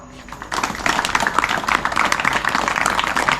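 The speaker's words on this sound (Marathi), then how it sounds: "तुम्ही सगळ्यांनी तुमच्या स्वतःसाठी जोरदार अशा टाळ्या वाजवा" An audience at a seminar on women's safety breaks into loud, dense clapping after a brief quiet start, then sustains a steady, close crowd of claps to the end.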